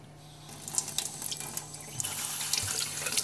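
An aquarium power siphon is rinsed under a running tap, giving a steady close stream of water splashing and hissing into a sink with a low hum underneath, and no talk.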